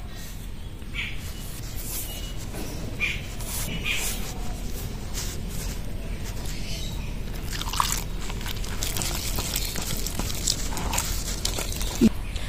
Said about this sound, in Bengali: বেসনটা কিন্তু খুব ভালো করে ফেটাতে হবে